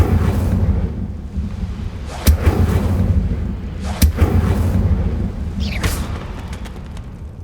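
Spell effects for Levioso and Incendio cast in the Hogwarts Legacy video game, with a steady low rumbling bed broken by sharp bursts and whooshes.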